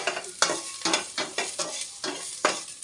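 Red snapper sautéed with ginger sizzles in a hot pan, with a run of about eight sharp stirring scrapes falling at a steady rhythm over the crackling fry, close and moderately loud.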